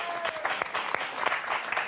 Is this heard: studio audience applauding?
yes